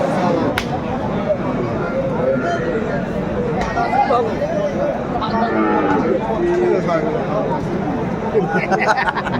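Cattle moo at a busy village cattle market where cows are sold with their calves, the lowing rising above constant crowd chatter and nearby voices.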